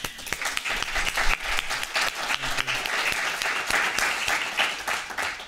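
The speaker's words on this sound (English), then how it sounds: "I think he deserves another applause" Audience applause at the closing of a 2019 STC workshop, a dense, steady wash of many hands clapping at close range that holds for several seconds without any talk.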